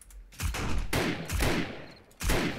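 Sniper rifle fire in the zombie survival game 7 Days to Die: four sharp, loud shots spaced roughly half a second to a second apart, each with a short ringing tail, no talking.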